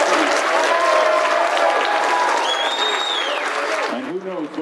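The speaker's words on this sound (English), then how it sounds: "Let's give Hulk a huge round of applause, everybody." A crowd at a Q&A event with wrestler Hulk Hogan claps loudly and steadily, with whoops and cheers rising over the applause before it thins near the end and a voice comes in.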